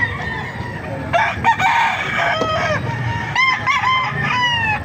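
Several roosters crow one after another, loud and close, with clucking and farmyard noise between the calls.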